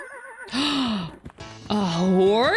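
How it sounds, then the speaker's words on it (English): A horse in the video game Fields of Mistria gives two loud, close, wavering whinnies that rise and fall in pitch, separated by a short pause and backed by soft game ambience. "A horse?"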